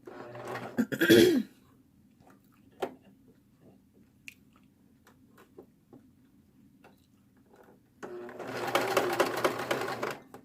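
A sewing machine stitches pleats on a swimsuit near the presser foot, running in two bursts, a brief one early and a longer steady run near the end, with faint ticks and handling noises in the quiet stretch between.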